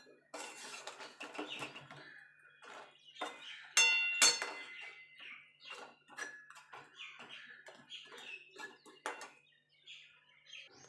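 Rasabora fritters turned over in sugar syrup with a spoon, a run of light scattered clinks and taps against a metal pan, fairly close and quiet.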